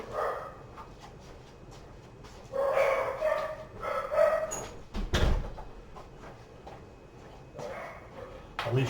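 Dogs bark indoors in several loud bursts close by, with a door sound and a sharp knock partway through.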